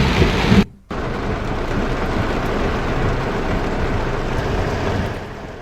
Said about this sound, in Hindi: देख सकते हैं आप मूसलाधार बारिश की ये तस्वीरें